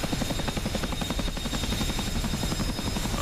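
A CH-47 Chinook helicopter in the DCS flight simulator, heard from inside as a loud continuous rotor thump with rapid rhythmic beating over a deep engine drone.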